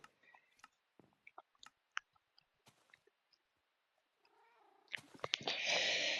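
A cat moves around a village house, producing scattered faint clicks and soft small sounds, then a louder close burst of cat vocalizing or purring-like noise at the end, with no talk.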